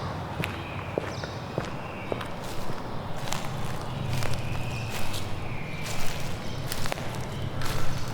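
Steady footsteps crunch and rustle through leaves at a walking pace, fairly close, over a soft outdoor background with no one talking.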